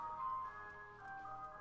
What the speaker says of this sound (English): the ice cream trucks just outside my house